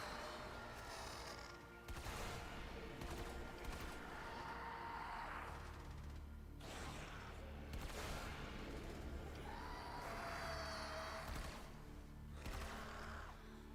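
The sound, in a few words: gunfire from shooting in the video game Warframe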